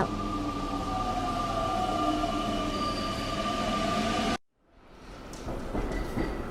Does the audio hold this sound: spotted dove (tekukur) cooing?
no